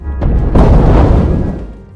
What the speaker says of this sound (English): ranging from the cracking of a shot from a sniper rifle to the thumping of a grenade launcher